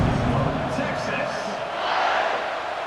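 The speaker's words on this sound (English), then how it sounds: "this crowd now ready to get behind them" Stadium crowd cheering in the College Football 26 video game before a kickoff, a steady roaring wash of noise that holds throughout at a fairly loud level.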